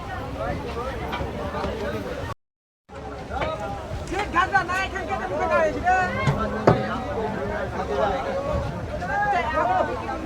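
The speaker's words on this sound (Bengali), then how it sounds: "ট্রেনটি এখন যথেষ্ট আস্তে আস্তে ভিড় হয়ে উঠেছে" Busy chatter of many passengers fills a crowding general-class train on a journey toward Tarapith, a steady babble of overlapping voices close around, broken by a brief dropout early on.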